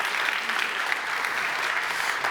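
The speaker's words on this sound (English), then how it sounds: "A big, actually, round of applause for all the startups who pitched so far." A dense, even wash of audience clapping honors startups after pitching at a bootcamp event, sustained at steady loudness for a couple of seconds.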